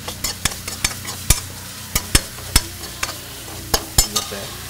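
Ingredients for kappa biryani being stirred in a pan, with a spoon scraping and knocking against the pan in irregular, close strokes over a soft sizzle.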